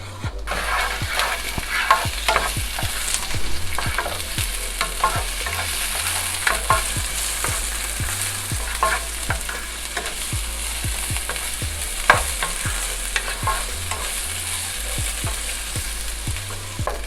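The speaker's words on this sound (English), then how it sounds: "We will just saute this for like 5 minutes." Capsicum and onion sauté together in a pan for pizza fries topping, a steady, close sizzle and fry with repeated stirring scrapes and clanks throughout, no voices.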